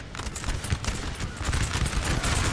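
Musket volleys crackle in a Napoleon Total War battle between French and Austrian lines, a dense, continuous ragged rattle of many shots overlapping for the whole stretch with no pause.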